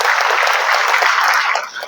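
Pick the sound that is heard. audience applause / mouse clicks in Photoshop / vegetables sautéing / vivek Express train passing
audience applause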